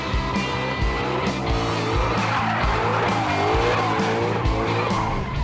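A car on a track drifting sideways with a loud, continuous tire squeal over a roaring engine, close and sustained throughout.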